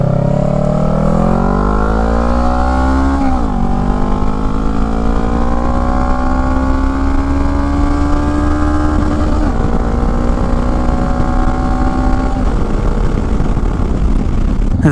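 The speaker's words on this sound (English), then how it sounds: "riding a motorcycle." A motorcycle engine drones loudly and continuously, its pitch climbing through gear changes as the bike accelerates.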